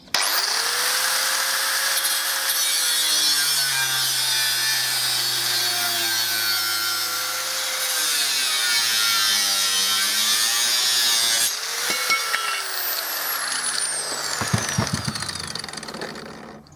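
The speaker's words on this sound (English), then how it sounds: "get the angle grinder set up and cut it off" An angle grinder cuts through metal on an old trolley being reconditioned, a loud sustained shrieking whine with shifting pitch that drops as the disc bites, then rattles and spins down near the end.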